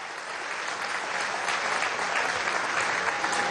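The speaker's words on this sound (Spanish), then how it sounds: "Un aplauso al Recio, ¿vale?" An audience applauds a joropo singer at an outdoor event at the Complejo Zamora in Yare. The clapping is steady and even, a fairly distant wash of many hands from start to finish.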